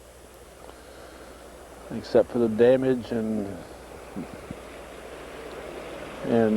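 Steady rushing floodwater from Champlain Village runs as a constant wash throughout, with someone talking over it partway through.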